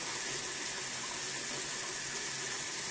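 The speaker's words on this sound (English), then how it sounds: "Alright, so I'm going to hopefully get you some warm water." Warm water runs steadily from a tap in a clinical bedside setting, a constant loud hissing gush that neither stops nor changes, with nobody speaking.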